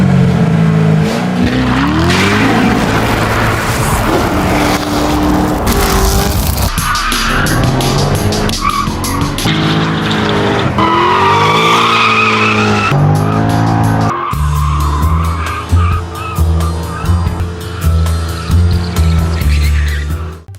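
A Chevrolet Corvette Z06 with a 7-liter LS7 V8 races in Need for Speed, its engine revving up and down through gears with loud, sustained tire squeal and skidding, close and continuous throughout.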